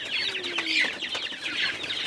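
Farmyard chickens cluck and chatter in a quick, overlapping stream at moderate distance, with a few sharper calls standing out.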